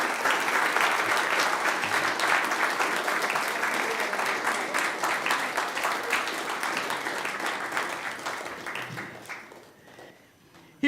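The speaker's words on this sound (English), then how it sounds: "How about a round of applause for them?" A church congregation applauds steadily for a group of volunteers called forward on Power Sunday, dense clapping that holds strong and then tapers off near the end.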